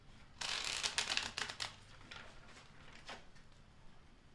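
A deck of tarot cards is flash-shuffled, giving a quick burst of riffling card flutters up close, then a few softer slides and taps. The sound is faint overall, with no speech.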